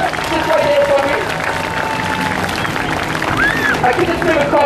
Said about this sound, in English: Everyone give her a big clap of cheers.